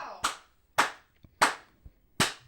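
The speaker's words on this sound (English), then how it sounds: "give you the one-man clap" One person clapping four times at a slow, even pace, each clap close and crisp, with faint light taps in between.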